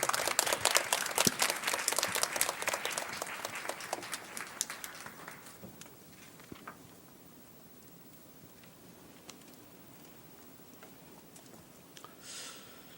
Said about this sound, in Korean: 우리 함께 선교사님 나오실 때 큰 박수로 우리 환영하도록 하겠습니다.